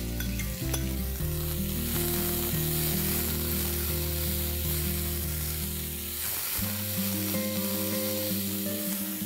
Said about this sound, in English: Let's add 2 medium onions that I have finely chopped and we're going to brown